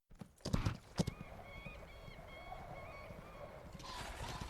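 Horse hooves clip-clop in a few sharp, close strikes at the start, followed by a steady ambient drone with high whistling, chirping tones, like a quiet outdoor scene from a fantasy drama.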